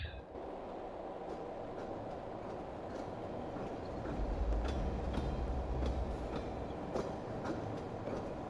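Steady low rumble of a train car rolling along rails in the video game Pathologic 2, with faint rhythmic clicks and metallic ticks over a continuous heavy drone, swelling slightly louder midway.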